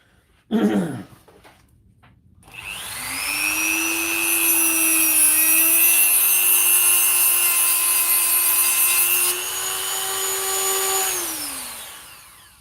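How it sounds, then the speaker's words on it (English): A Dremel rotary tool cutting into a Makita battery pack: after a brief clatter, the motor spins up to a loud steady high whine that holds for several seconds, dips slightly, then winds down. "Cut that with a Dremel, I suppose."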